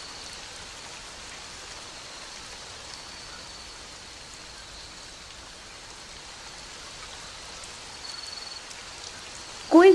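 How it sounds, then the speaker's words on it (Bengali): Cartoon rain falls steadily outside, a soft even patter of drops on surfaces that grows slightly louder toward the end, when a brief sharper sound cuts in. "বৃষ্টি কমতে শুরু করেছে।"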